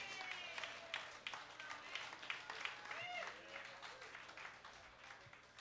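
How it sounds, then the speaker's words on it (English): A blues club crowd at The Blues Can gives the band a round of applause: quiet, scattered clapping mixed with cheers and chatter, fading slightly toward the end. "Let's give the band a nice round of applause."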